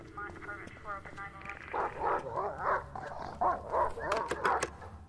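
A dog barks and whimpers in the Silent Hill Downpour video game, sharp yips and whines close up alongside a person talking, with game ambience underneath.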